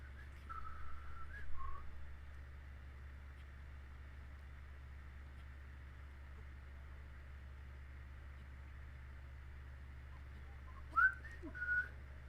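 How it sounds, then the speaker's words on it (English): Someone whistling softly while playing Zelda Breath of the Wild on Nintendo Switch: a few faint, short tuneful notes near the start and again near the end over a steady low background hum. "Sorry, I'm whistling."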